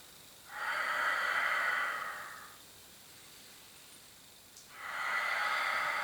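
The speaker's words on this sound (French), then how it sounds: "Allez, j'expire. Et j'inspire, je reviens." Two long, steady breaths during a Pilates coordination exercise, with arm and leg movements, each lasting about two seconds with a pause between. Close and fairly loud, with no talking over them.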